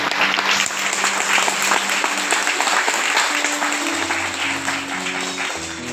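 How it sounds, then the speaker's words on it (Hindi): A church congregation claps for former addicts who were brought to the service, loud and dense, with sustained tones from a keyboard or organ playing underneath and later rising beneath the clapping. "उनके लिए तालियां बजा दूंगा।"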